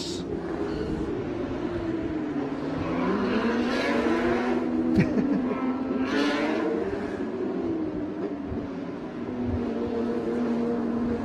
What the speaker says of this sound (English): That's a good looking parade of Porsches right here.